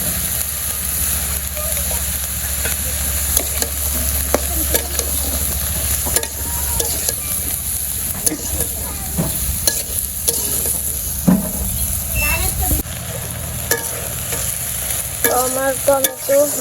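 Eggplant sautéing in a pan gives a steady sizzle and crackle, with intermittent scraping stirs and clinks against the metal, close and fairly loud under a low background hum.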